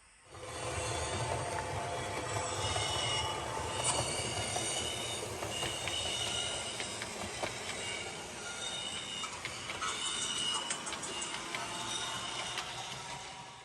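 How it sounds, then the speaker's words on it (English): A model train's sound decoder plays a continuous high metallic flange squeal from the wheels on a curve, steady and fairly quiet throughout, with no talking. "the flange squeal when you're going around curves"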